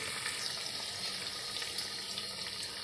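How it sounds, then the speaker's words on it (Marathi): Hot water pours steadily into a pan of dried white peas being cooked for a curry, a continuous splashing gush heard close and alone. "आता मी ते गरम पाणी टाकणार आहे"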